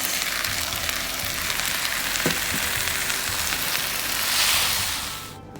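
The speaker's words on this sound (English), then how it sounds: "Now that we have all of the vegetables in and they've been cooking, we're going to add in our sauce." Chinese stir-fried vegetables, including bean sprouts, sizzle loudly in a hot pan after sauce is added. The frying hiss is dense and continuous, with a brief surge near the end, and no one talks.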